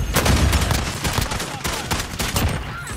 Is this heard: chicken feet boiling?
no